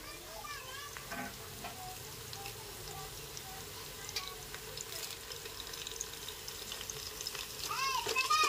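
Curry leaves sizzle and crackle in hot oil over golden fried onions while a fish curry is cooked, a steady low frying hiss with faint stirring clinks, growing slightly louder toward the end.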